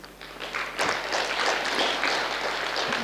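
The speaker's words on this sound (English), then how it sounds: "So can we give Dr. Sarah Eager a hearty round of applause" Audience applause after a talk on self compassion, a burst of clapping that starts with a sharp thump and holds as a dense, fairly close wash of hands for the rest of the clip.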